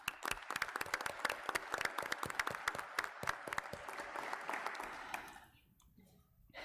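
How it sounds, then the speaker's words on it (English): A room full of people applauds at a commission meeting, with distinct, sharp claps at first that thin out and fade to near silence in the last second or so. "Let's give all of them a round of applause"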